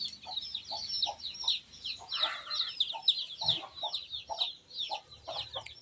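Chickens cluck in quick repeated bursts, several birds close by with overlapping calls and soft rustling underneath.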